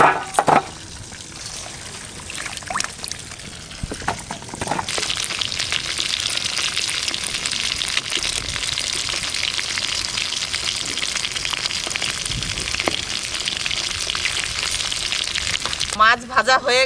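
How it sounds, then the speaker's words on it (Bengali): Roopchand fish frying in hot oil, a dense, steady sizzle close to the pan that swells after a few seconds and crackles continuously to the end. "মাছ ভাজা হয়ে গেছে, তুলে নেব।"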